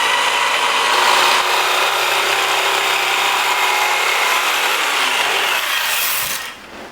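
A jigsaw cuts wood along a marked line, working around clamps on a sanding-center build, a loud steady buzzing rasp that runs continuously for several seconds before stopping near the end.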